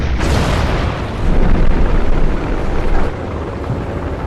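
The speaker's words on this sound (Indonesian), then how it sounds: "sampai akhirnya Heldov tewas saat bom itu menyentuh tanah." A bomb blast from a war film sounds as a loud, sustained low rumble and roar that swells midway and lingers for several seconds, with no voices over it.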